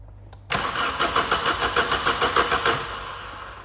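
A Vauxhall Calibra engine cranks over on the starter without catching, a loud, close, evenly pulsing churn of about a dozen beats that continues for roughly three seconds.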